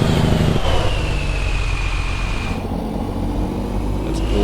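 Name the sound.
Cummins N14 truck engine in American Truck Simulator video game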